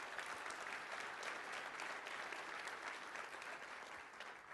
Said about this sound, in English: Round of applause for Mercy.